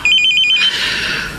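Cellphone ringing loudly nearby in a Tagalog drama scene, a rapid electronic trilling tone that stops after about half a second, followed by a fading hiss.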